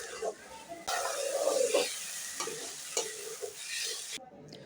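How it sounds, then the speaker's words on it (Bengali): Fried potatoes being stir-cooked with spice masala for a potato and pointed gourd curry, a steady close sizzle with repeated scraping stirs, a voice briefly audible under the cooking. "এখন আমি অ্যাড করে দেব ভেজে রাখা আলুগুলো এবং আলুগুলো দেওয়ার পর মশলার সাথে আমি আরও 2 মিনিট ভালোভাবে রান্না করে নেব।"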